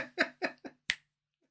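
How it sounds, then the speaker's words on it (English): Finger snapping from a scene in a Slumber Party Massacre sequel horror film: five short, crisp snaps in a loose, uneven rhythm, fairly close, then silence. "They're obsessed with like clapping, and finger clicking."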